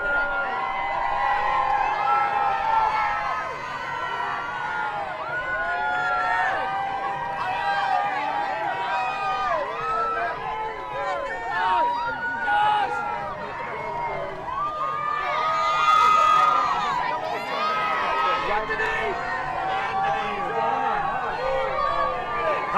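A large crowd cheers and shouts continuously for the LSU baseball team returning to Baton Rouge after winning the College World Series, a dense, loud roar of many voices with shrieks and swells throughout.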